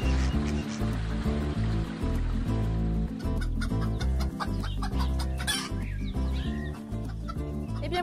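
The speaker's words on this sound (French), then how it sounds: "Que font les poules dans le verger?" Hens cluck steadily in an orchard on a permaculture farm, a loud, continuous layer of clucking with a constant tonal backing throughout.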